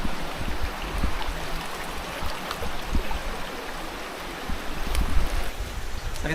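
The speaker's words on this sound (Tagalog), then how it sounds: "Ang lakas ng tubig dito, 'di ba?" Strong, rushing water flows steadily close by, a continuous broadband wash with no talk over it.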